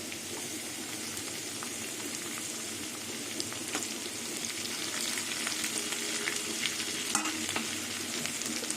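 Crushed garlic and onion fry in a pan with a steady, busy sizzle and crackle, a few sharper clicks of stirring rising slightly louder toward the end.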